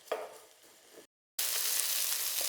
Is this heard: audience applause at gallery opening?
no